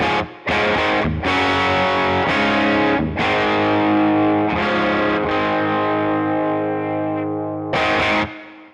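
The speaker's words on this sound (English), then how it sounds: "the Cream of the Crop pickup sounds better on this guitar than it does on my Nick Huber" Electric guitar fitted with a Cream of the Crop pickup on a Cream T Aurora, playing loud distorted chords that ring out and are struck again several times, with a chorus-like shimmer.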